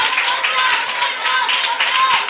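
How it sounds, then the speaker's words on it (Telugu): A church congregation claps along during praise, a steady, rhythmic group clapping with voices blended in underneath. "చప్పట్లు కొడుతూ స్తోత్రాలు చెప్పండి గట్టిగా"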